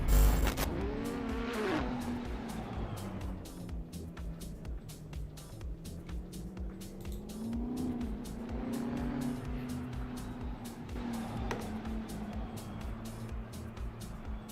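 A Nissan 370Z drift car at a drifting competition roars steadily and loudly throughout, its engine droning with shifting pitch as it slides through the course.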